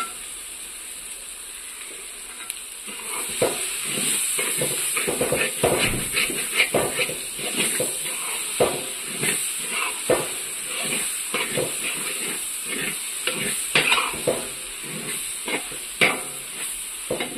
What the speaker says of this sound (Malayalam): പച്ചമണം മാറുന്ന വരെ നന്നായിട്ട് ഇളക്കി കൊടുക്കണം